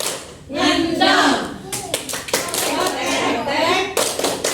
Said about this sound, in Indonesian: 2 kali tepuk ayam, kotek-kotek, kotek-kotek